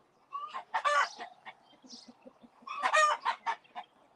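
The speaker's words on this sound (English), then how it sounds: "He wants to be dominant rooster." Big Red, a rooster, crows twice close by in a loud, ragged call, with soft clucking from other chickens in between.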